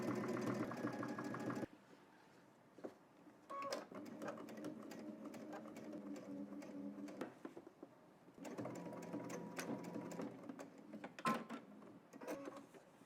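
A sewing machine stitches down a shirt placket in bursts of rapid mechanical whirring, with a short pause and then longer runs that stop and restart, close and fairly quiet.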